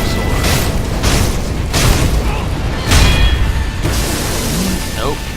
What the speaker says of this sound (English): Double fire sword.